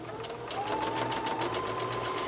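A sewing machine runs steadily, straight stitching a 5/8 inch seam on a classic jumper, its needle tapping in a fast even rhythm, close and alone with no talk.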